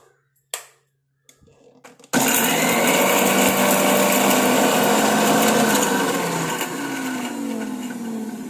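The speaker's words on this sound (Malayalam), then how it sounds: "ആവശ്യത്തിന് ഒഴിച്ചു കൊടുത്ത് അരച്ചെടുത്താൽ മതി കേട്ടോ" After a couple of brief knocks and a short pause, a mixer grinder grinding henna leaves with water into paste starts abruptly and runs as a loud, steady whine that eases slightly toward the end.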